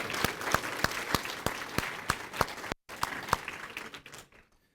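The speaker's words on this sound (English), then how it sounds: "let's give them a round of applause for being here and the work that they've done." Audience applause at the annual Long Point research conference in Norfolk County. A room of people claps steadily with crisp, distinct hand claps, breaks off briefly, then resumes and trails away to quiet.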